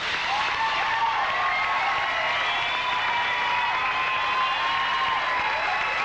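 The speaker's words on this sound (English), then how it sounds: "The crowd is going nuts over them." Bodybuilding show audience cheering and applauding Tony Pearson and Juliet Bergman on stage, a dense, steady roar of clapping and shouting that holds at full volume throughout.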